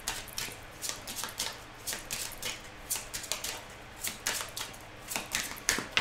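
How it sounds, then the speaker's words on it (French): Deck of oracle cards being shuffled and cut by hand, producing a quiet, close run of rapid soft flicks and riffles in irregular bursts, with no speech. "Alors on va faire la coupe."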